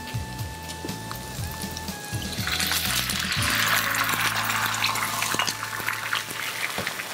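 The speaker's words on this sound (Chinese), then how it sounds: "加水进去。" Water poured into a pan of lightly sautéed green, yellow and red peppers for a vegetable stew, a rising broadband rush that swells and holds steady, with faint clinks over a low background tone.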